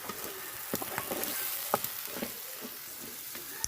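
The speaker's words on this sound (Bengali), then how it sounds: "খালি রসুন মরিচ বাটা রসুন মরিচ বাটা দিয়া এটি মাছ ভাজা ভাজা করবো" Fish fries in garlic-chili paste over a clay stove, crackling and hissing continuously with scattered sharp pops and utensil clicks, close and moderately quiet, without speech.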